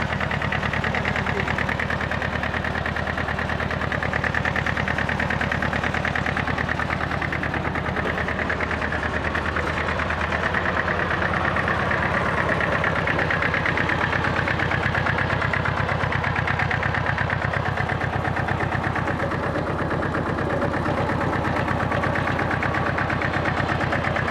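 A two-stroke grass cutter engine idles steadily and evenly close by, a constant throbbing hum that barely changes over the whole stretch, with no talking.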